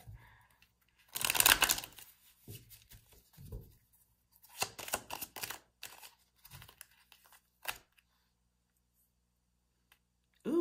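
A deck of tarot cards is shuffled in several loud, papery bursts of riffling and flicking, with pauses in between, close by and with no talk.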